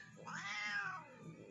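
A tortoiseshell cat gives one drawn-out, wavering meow, close and fairly quiet, with no one talking over it.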